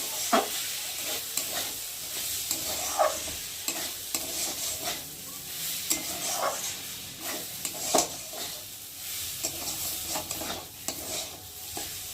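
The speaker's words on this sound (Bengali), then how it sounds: "হালকা করে একটু নেড়ে নেব।" Shyama rice for payesh is stirred in a pot, a steady scraping and faint sizzling with soft repeated strokes of the spoon, close and alone without talk.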